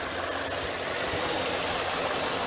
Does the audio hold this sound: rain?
no